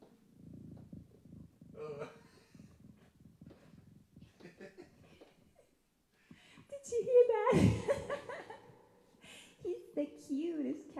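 A cat purrs softly in a rehearsal room, a low steady rumble at first, then a person talks and coos over it as the purring fades beneath the voice.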